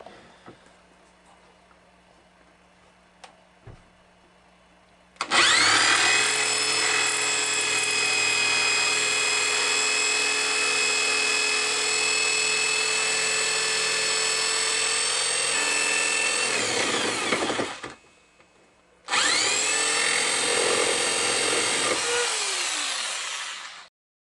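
A power tool cuts off supports on a metal dance pad built on 2x4s, with a loud, steady high-pitched whine that runs for about twelve seconds, stops briefly, then starts again for a shorter run, close up.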